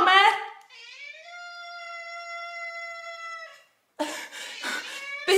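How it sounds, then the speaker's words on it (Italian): Hungry house cats meow before being fed: a long drawn-out tonal meow held for a few seconds, with short bursts of other cries and a voice before and after, nearby and clear. "A casa la prima cosa che devo fare è dare da pappa a questi gatti tanto affamati"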